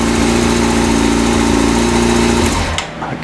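A Yamaha R6 motorcycle engine idles steadily during carburetor synchronization, loud and close with a fast even pulse, then cuts off and winds down near the end.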